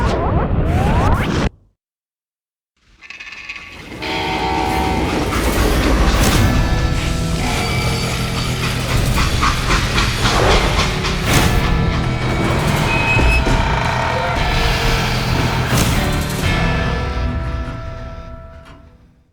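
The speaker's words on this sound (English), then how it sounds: "Now, how'd they stop this train in the first place?" Train braking to a stop in the Call of Juarez: Gunslinger video game, a loud sustained metallic grinding and clattering with crashes and scrapes that rise after a brief silence and run on for many seconds.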